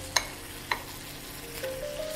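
Mendu vada frying in oil gives a quiet sizzle, with two sharp clicks of a utensil early on and a faint scraping stir toward the end.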